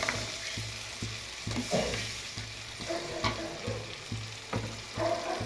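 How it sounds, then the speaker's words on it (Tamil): Sliced onions sautéing in a pan for chicken noodles, a steady faint sizzle with regular soft scraping stir strokes about once a second, no voices. "வெங்காயம் நல்லா வதங்குது"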